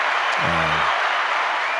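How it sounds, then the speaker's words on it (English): A crowd claps and cheers in a steady, dense wash of applause, with a short low voice-like tone sounding briefly near the start. "As the crowd goes crazy as usual."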